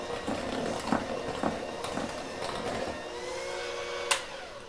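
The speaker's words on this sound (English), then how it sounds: "this hand mixer with the slow start so that all your stuff doesn't go wah!" An electric hand mixer with a slow start beats oatmeal muffin batter, giving a quiet, steady motor whir. Soft knocks from the beaters sound against the bowl, and the hum eases into a lower, smoother drone toward the end.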